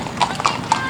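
Horses' hooves clip-clop on pavement in a small-town rodeo parade, three sharp, evenly spaced strikes close by under a general background murmur.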